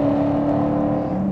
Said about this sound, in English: The engine's barely turning over.